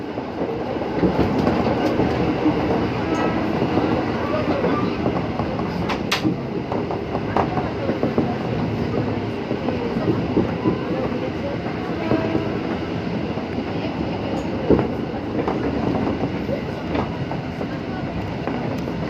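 A JR203 commuter train runs along the rails, heard from inside as a steady, continuous rumble with faint rhythmic clicking of the wheels and no break for the whole stretch.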